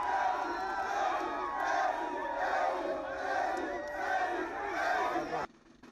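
A crowd of Ivorians living in Algeria cheers and shouts for President Alassane Ouattara at his welcome, loud continuous roaring voices in waves that cut off abruptly near the end.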